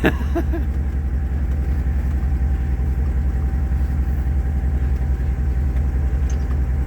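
A car with a 6.4 Hemi engine runs steadily while a learner drives, giving a loud continuous low rumble with a few knocks at the start.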